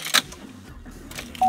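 A 2014 GMC Sierra 1500 gives a few short key-in-ignition warning beeps close by, with a brief steady tone near the end, in an otherwise quiet setting.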